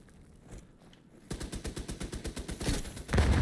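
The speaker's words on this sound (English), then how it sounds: "I shot him with my sniper rifle." Gunfire in the video game The Division 2, fired during a Dark Zone session, comes as a rapid, evenly spaced string of loud close shots that grows more intense toward the end.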